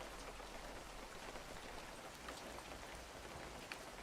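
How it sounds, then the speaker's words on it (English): Steady rain in a fishing video game built in Godot, a constant soft patter of drops with occasional sharper taps, heard alone with no talk. "It's raining in game."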